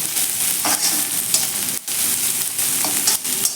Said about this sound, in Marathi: आता आपल्याला हा कांदा एक मिनिटभर असा छान असा परतून घ्यायचा आहे